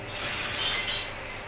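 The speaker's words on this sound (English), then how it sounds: "I heard glass breaking out of the window." Window glass shattering in the video game Cat's Cradle, a single bright crash with scattered tinkling shards that fades within a second and a half, heard alone.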